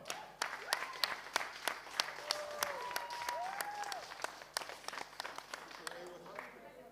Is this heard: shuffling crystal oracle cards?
no